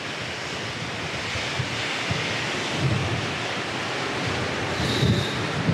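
Steady, rushing roar of surf rolling onto a beach on South Australia's Eyre Peninsula, blended with a strong gusting southerly wind buffeting the microphone, with no voices.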